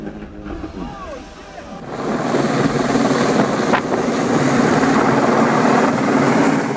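A helicopter in the Swiss Alps airlifts an injured cow from a high pasture; a steady rotor and engine roar builds after a quieter, rustling start and holds loud and continuous.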